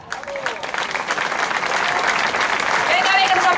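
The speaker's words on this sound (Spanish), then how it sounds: "Recibamos con un fuerte, fuerte aplauso" An outdoor audience on a beach applauds jota dancers in sustained, steady clapping that swells slightly, with crowd voices mixed in.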